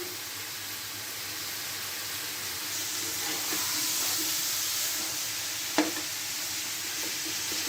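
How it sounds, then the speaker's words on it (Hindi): Steady sizzling of mutton frying in oil, a broad hiss with occasional stirring scrapes and one sharp clink near the end, no voices. "3 से 4 मिनट हम इस गोश्त को इस तेल में थोड़ा सा भून लेंगे।"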